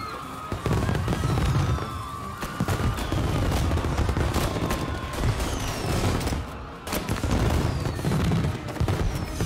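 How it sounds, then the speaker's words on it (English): Dense crackling bursts and booming pops of fireworks in Mafia: Definitive Edition go off continuously, loud and close, with whistling streaks between the explosions. "And now for the fireworks"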